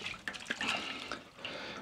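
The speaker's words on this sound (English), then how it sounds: "Just going to give it some water" Water is poured onto a potted houseplant in a home, making an uneven close splashing and trickling with a few brief bursts and a short pause partway through.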